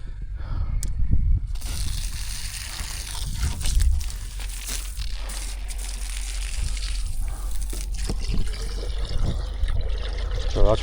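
A garden hose tap runs steadily outdoors, with a continuous trickling, splashing flow over a low rumbling background and occasional crunchy handling noises throughout.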